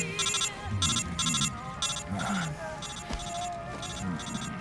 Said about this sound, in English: I'm getting another phone call at the worst possible time.